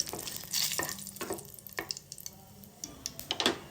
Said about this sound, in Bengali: ডালের বড়িগুলো সর্ষের তেলের মধ্যে খানিকটা লাল লাল করে ভেজে তুলে নিয়েছিলাম